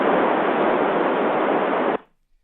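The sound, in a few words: radio squelch opened, white noise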